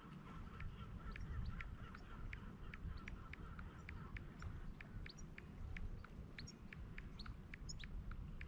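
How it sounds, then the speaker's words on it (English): Seagulls call at the seaside on the Cumbria coast during a bass and mullet fishing session, a quick, regular string of faint, thin cries repeating over a steady background of wind and surf. "It's nice to hear the seagulls."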